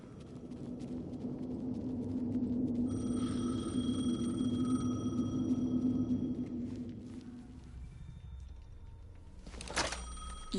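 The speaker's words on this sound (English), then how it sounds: "The phone again." A telephone rings in Alan Wake 2, its repeated electronic trill sounding through a droning, rumbling ambience before the room falls quieter and a sharp clatter breaks in near the end.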